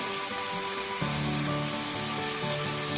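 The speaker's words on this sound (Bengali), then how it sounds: "জল দিয়ে দিচ্ছি, আলুগুলো সেদ্ধ হবে, ওই জন্য একটু জল দিলাম।" Water splashes into a hot pan of potatoes for chal potol, setting off a steady broad hiss of sizzling that carries on at moderate loudness for the whole stretch, with no voices.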